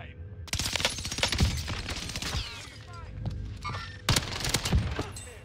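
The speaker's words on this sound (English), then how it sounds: "his teammate decides to take a few shots at me and removes a plate and a half of health" Enemy gunfire in Call of Duty Warzone, rapid bursts of close shots in two clusters separated by a brief lull, with sharp mechanical clatter between volleys.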